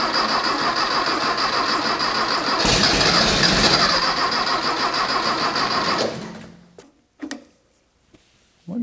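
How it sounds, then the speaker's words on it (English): A custom VW dune buggy engine cranks with a rapid, loud, rhythmic churning that swells and runs for about six seconds, then cuts off, followed by a few brief clunks and near silence. "I'm gonna try to crank it and hopefully get it to fire."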